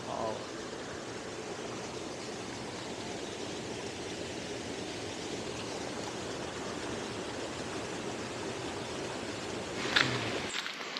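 A jungle stream in the Western Ghats pours down like a small waterfall, giving a steady, moderately faint rushing wash that holds even throughout, with a brief knock near the end.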